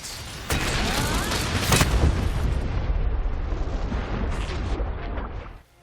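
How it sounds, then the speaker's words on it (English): An impact crater combined with a spitting wyvern shot in the Monster Hunter video game lets off a loud, sustained explosive roar with sharp bursts near the start. The blast rumbles on for several seconds before cutting off abruptly. "what do you get when you combine an impact crater and a spitting wyvern shot?"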